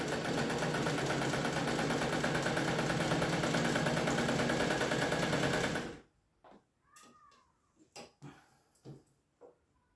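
A Singer 298 sewing machine in a cabinet runs a zigzag stitch at a steady, fast whir for about six seconds, then stops, leaving faint clicks and handling noises.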